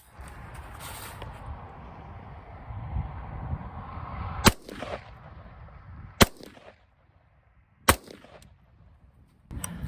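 Several sharp, loud gunshots from a Rock River Arms LAR-15 police trade-in A2 carbine in 5.56 with a 16-inch barrel, carbine-length gas system and birdcage flash hider, spaced a second or two apart outdoors after a stretch of rumbling background.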